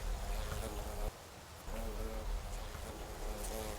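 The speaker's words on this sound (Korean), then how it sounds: "동시에 다른 꽃잎에 있던 꿀벌도 날아간다" A honeybee flies off a yellow flower, its buzzing hum continuous and fairly close across the whole stretch, dipping briefly partway through against an outdoor background.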